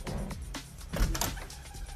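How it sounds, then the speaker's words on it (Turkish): A household door is opened, giving a soft mechanical creak and shuffle with a few thumps, close by and fairly quiet. "Bakalım gelin hadi açıyoruz kapıyı."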